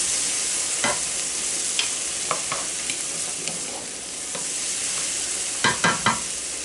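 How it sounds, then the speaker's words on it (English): Frozen green peas sizzle in a pan while a utensil stirs them, giving scattered scrapes and clinks over a continuous frying hiss, with a cluster of quick strokes near the end. "Stir it up, let it start cooking a little bit."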